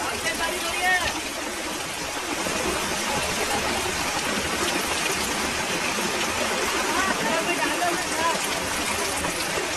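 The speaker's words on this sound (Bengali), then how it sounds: "খুব বেশি বৃষ্টি হচ্ছে।" Heavy rain pouring near the main gate of a shrine compound, a dense unbroken hiss of falling water and runoff, steady and loud for the whole stretch.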